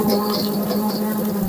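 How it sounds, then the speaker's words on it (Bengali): A blender whirs as it blends fresh lemon juice with a pinch of salt, producing a loud, steady motor hum held at close range for the whole moment. "এই যে ব্লেন্ডার রাখছি"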